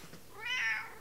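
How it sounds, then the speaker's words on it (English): A single drawn-out meow from a friendly pet cat indoors, rising and then falling over about half a second, close and fairly soft with no talking. "As you can see, I am here with a cat."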